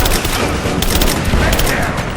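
Gunfire and grenade blasts in Rise of the Tomb Raider on PC form a dense, continuous barrage of rapid shots and booms, loud and close throughout, with a voice calling out amid the noise.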